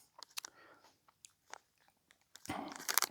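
Scratch Energy Chews gummies are chewed close to the mic on a desert mountain hike, quiet soft bites and squishy mastication clicks scattered irregularly, then a louder rustling burst near the end.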